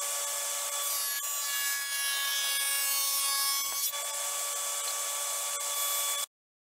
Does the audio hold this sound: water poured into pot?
no